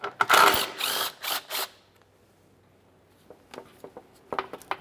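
A ratchet wrench loosening coarse- and fine-thread sway bar bushing mounting bolts under a 2011-2020 Toyota Sienna, a burst of rapid ratcheting clicks up close, then a pause and scattered lighter clicks and clinks.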